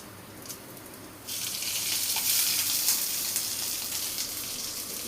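Ingredients sizzle and fry in mustard oil in a pan, a hissing crackle that jumps up sharply after a quiet start and stays fairly even and close, with small pops and clinks, no talking.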